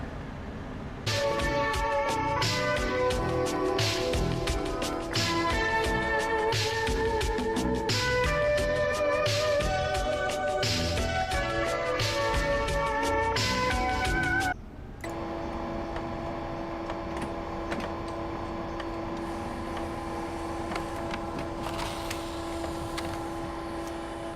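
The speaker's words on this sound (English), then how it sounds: "The freaking printer." A printer in Freddy Fazbear's Pizzeria Simulator runs loudly with a mechanical, whirring, tonal rattle that stutters in bursts for about fourteen seconds, then settles into a steadier humming drone, with no talking.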